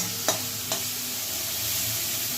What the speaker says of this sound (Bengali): এটা একটু ফ্রাই হতে থাক।